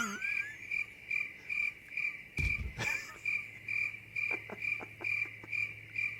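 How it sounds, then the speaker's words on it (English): Steady, rhythmic cricket chirping pulses on and on at an even pace, briefly broken by a short burst of louder noise partway through, then carrying on as before. "We ended up with 12 seconds of crickets."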